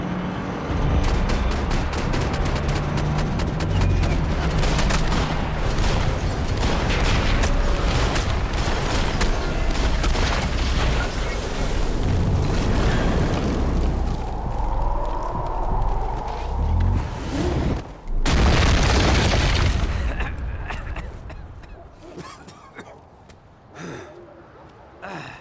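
Gunfire and explosions from the video game Max Payne 3 fill the scene with dense, loud cracks and booms, mixed with shouting voices, before the action thins out into scattered quieter shots.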